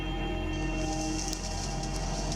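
Steady rain hissing on a river's surface during a downpour, a dense continuous wash with faint scattered droplet ticks, close and unbroken with no voices.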